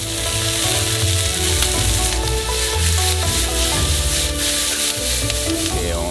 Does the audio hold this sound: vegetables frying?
yes